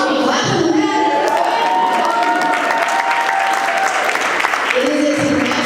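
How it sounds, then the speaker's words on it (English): A live room audience bursts into sustained clapping mixed with cheers and shouts, loud and steady throughout, with voices rising over the applause. "You should be clapping for that."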